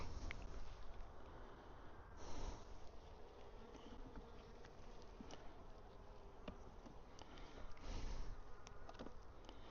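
Honeybees at an outdoor beehive with feeders, a dense continuous buzzing swarm close by, swelling slightly at moments, with faint clicks and rustles and no talking.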